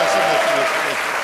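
Studio audience applause on a French midday TV show, a loud continuous burst of many hands clapping, dense and close, fading slightly at the end.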